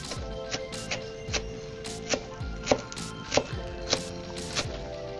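Knife chopping kale on a cutting board for soup, a series of about ten distinct, close, crisp strikes at an uneven rhythm with quiet pauses between.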